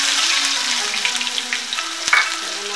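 Garlic sizzles in hot oil with mustard seeds and cumin for a ridged gourd stir-fry, a close continuous frying hiss with small crackles and a stir or clink of a utensil, no talk.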